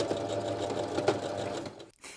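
A domestic sewing machine runs a 3-step zigzag along the elastic waistline of a pair of panties, humming steadily and close for about two seconds before stopping briefly and starting again.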